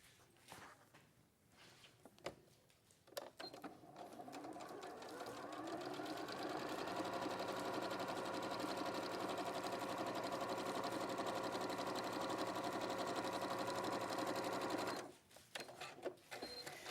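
A sewing machine with a normal presser foot stitches quilting fabric in one long, steady whirring run that builds up and then stops, with quiet handling sounds before and after.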